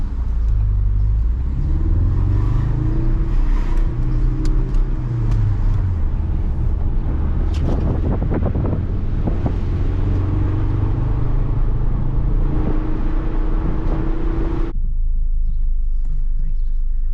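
Steady, loud engine rumble from a Ford Focus RS while driving, with the low drone shifting in pitch as it accelerates and eases, before the sound drops away near the end.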